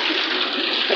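Water pours from a pipe onto muddy feet in a steady, close stream with a continuous rushing, splashing sound and no break.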